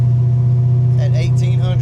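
A car engine idles steadily in fourth gear at about 1800 rpm, a loud, constant low drone, while someone talks over it in the second half.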